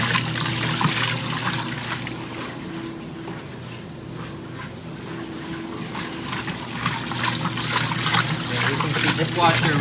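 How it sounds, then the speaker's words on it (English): Water sloshes and splashes continuously inside a washing machine during a wash cycle, a steady wet churning with a faint voice in the background. "This washer really does love to splash that water out"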